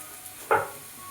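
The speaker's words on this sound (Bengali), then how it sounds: "লাল করে ফুলকপিটা ভেজে নিয়েছি।" Cauliflower frying in a pan until reddish-brown gives a single short burst of sizzling near the middle, against an otherwise quiet background.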